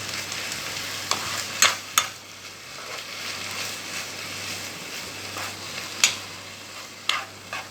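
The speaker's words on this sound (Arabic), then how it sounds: "هننزل عليها البصلة الكبيرة المفرومة وهنقلب كده البصل اللي معاها برضو" Minced onion and meat sizzle steadily in a pan, with a few sharp scrapes and knocks of a spoon as the mixture is stirred.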